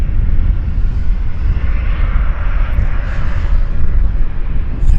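Loud, steady roar of jet airliner engines at an airport, a deep rumbling drone with a broad hiss on top, continuous and close.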